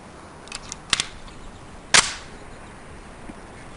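Semi-automatic pistol shots on a firing range in the MS-DOS game Police Quest: SWAT: a few light, sharp cracks, then one louder report, all short and crisp against a quiet background.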